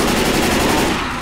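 Rapid automatic gunfire in the zombie co-op shooter Left 4 Dead, a loud, continuous burst of closely spaced shots with no pause.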